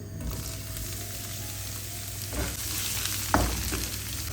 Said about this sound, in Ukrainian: відправляю на добре розігріту сковорідку з олією